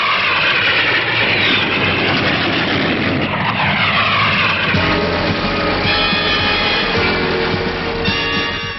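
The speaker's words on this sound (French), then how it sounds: "Avion de combat en vue, avion de combat en vue." A combat aircraft's engine roars steadily and loudly throughout, a continuous droning whine that shifts in pitch as it flies past, with no talking.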